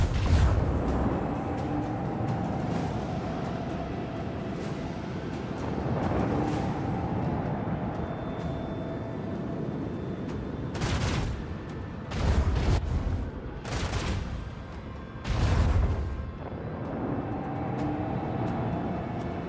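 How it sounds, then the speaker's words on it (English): Starship torpedoes fire in the Warhammer 40k Rogue Trader video game: a low rumbling bed with several sharp, loud booming bursts in quick succession near the end. "I guess we really want to shoot those torpedoes"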